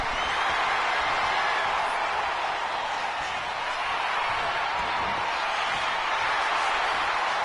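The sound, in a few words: crowd cheering in WWE 2K25 video game wrestling match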